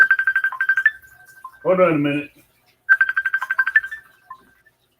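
A phone ringtone plays a repeated bright electronic melody in two bursts separated by a pause, close and clear, with a person speaking briefly between the rings.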